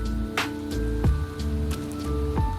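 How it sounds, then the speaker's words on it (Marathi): Raindrops fall from trees during rain on a misty Sahyadri trail near Lonavala, a few distinct drips and splats landing over a steady wet background. "झाडांवरून पडणारे पावसाचे थेंब"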